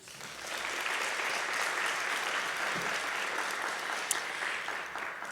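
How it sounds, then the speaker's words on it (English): Steady, sustained audience applause from a large crowd at a college state-of-the-college address, continuous and even throughout without talk over it. "Please join me in another round of applause for Emily, Paul, Brett, Rishi, and Savannah."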